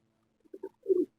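A pigeon coos softly nearby on a rooftop: two short low notes followed by a longer rolling coo, in otherwise quiet surroundings.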